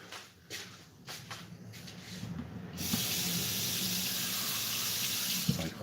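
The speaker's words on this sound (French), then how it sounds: "Je vais éteindre carrément sous le robinet d'eau." Kitchen tap turned on after quiet kitchen sounds, a steady loud rush of water running into a sink for several seconds.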